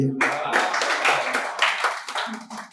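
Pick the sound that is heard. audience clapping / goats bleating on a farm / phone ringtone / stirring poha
audience clapping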